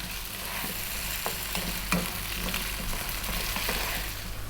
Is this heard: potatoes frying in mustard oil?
yes